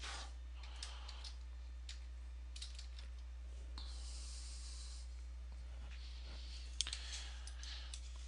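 Faint, scattered keyboard typing clicks, heard up close on a computer keyboard while a title is entered in a Word document, with steady background hiss.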